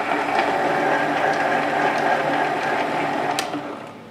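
A small hobby metal lathe turning slowly while cutting a shallow 1.25 mm thread, giving a steady close mechanical whir and hum with a soft rhythmic ticking, fading out at the end.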